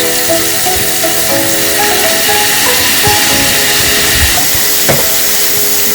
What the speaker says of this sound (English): Then let this simmer.